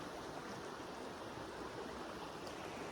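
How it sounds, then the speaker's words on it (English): A creek rushing steadily with broadband, close-up babble and no pauses, green water running over rocks in a trout stream with pocket water; no voices. "There's another creek over there."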